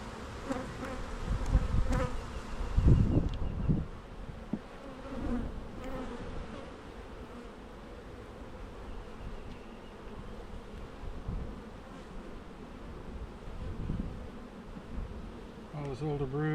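Honeybees at an open beehive bringing in pollen make a soft, continuous buzz, with a few louder bumps and handling noises near the start.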